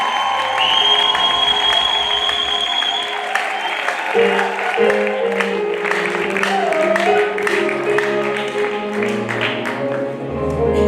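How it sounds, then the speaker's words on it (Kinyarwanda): A church congregation claps together, a loud dense patter of many hands filling the room alongside voices and musical tones. "Ngaho bakugerageza gukoma amashyi."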